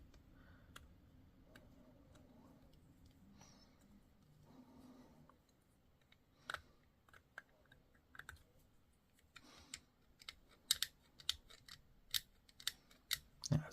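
Small, sharp snips and clicks as a mould point is trimmed off a plastic Terminator miniature part, a quiet hand-tool start followed by a run of irregular crisp cuts growing louder toward the end.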